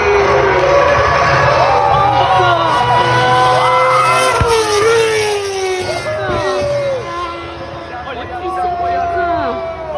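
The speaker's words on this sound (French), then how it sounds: "Écoutez-moi ce moteur." Race car engines whine past loudly at the GP Explorer 2 event, with rising and falling pitch sweeps, layered over a busy crowd murmur throughout.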